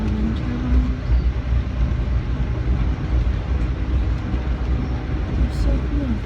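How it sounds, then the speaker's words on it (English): A long-distance passenger train rolls along, its steady low rumble and rattling carriage noise constant throughout, with a voice talking over it. "I have officially been on this train for 24 hours."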